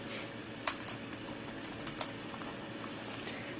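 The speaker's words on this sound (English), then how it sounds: "Type in my password here." Fingers tap a password on a thin laptop keyboard running Windows 8.1, a few soft, sparse key clicks with a couple of sharper presses, quiet and close over a faint background hum.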